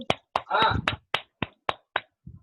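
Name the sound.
audience clapping in honour of Shankar ji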